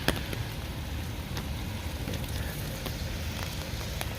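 Steady, continuous rain with a dense hiss and scattered drips, even and unbroken throughout, with no voices.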